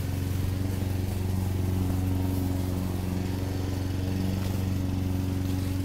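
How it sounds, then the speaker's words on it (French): A lawn mower runs nonstop, its engine giving a steady, close, even drone with a strong low hum from start to finish, and no one talks. "La tondeuse."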